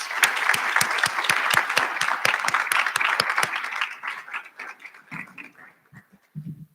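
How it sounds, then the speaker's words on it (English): Audience applause at a college graduation recognition ceremony, a crowd clapping briskly and loudly, then fading after about four seconds into scattered claps and low voices. "So let's give them another round of applause."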